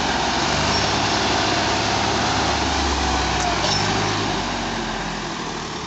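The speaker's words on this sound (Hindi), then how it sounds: "दोनों ट्रैक्टर ने पूरा जोर लगा दिया है।" Two tractors, a Swaraj 744 and a Sonalika 35, strain at full power in a tug of war against a trolley on soft dirt. Their engines give a loud, steady rumbling drone that eases slightly toward the end.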